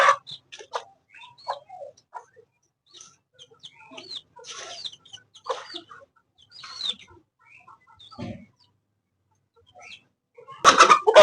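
Hen and chicks clucking, the hen chasing someone: scattered clucks and high chick peeps with gaps of quiet, closing in a louder flurry of squawking and flapping.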